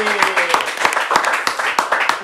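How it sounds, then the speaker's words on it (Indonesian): Scattered clapping from a small audience at a student executive board talk event, a handful of distinct, fairly loud claps in uneven rhythm, with a brief tonal sound at the start. "tepuk tangan lu buat Komang dan Dede"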